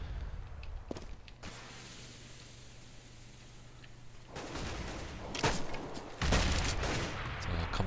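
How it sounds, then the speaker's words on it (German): Bursts of gunfire in the video game Counter-Strike on the de_dust map during a competitive match, with sharp shots and rapid volleys over steady background noise, growing denser and louder in the second half. "da kommen die ganze Zeit die Schüsse von Asmor an hinten"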